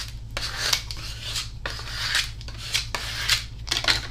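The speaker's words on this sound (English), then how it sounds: "I'm just going to give it a little rub down." Transfer tape is rubbed down firmly onto a craft project with repeated scraping, rasping strokes. A steady low hum runs underneath, and no one speaks.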